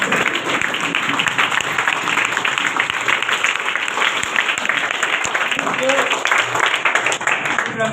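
Sustained, dense applause fills an indoor meeting hall, many hands clapping steadily and loudly throughout with a murmur of voices underneath.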